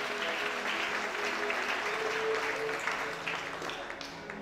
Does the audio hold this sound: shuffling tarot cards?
no